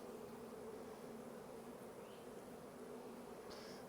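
Honey bees from a split colony with a drone-laying queen buzz steadily inside an opened hive, a dense, continuous drone close at hand with a few individual bees whining past.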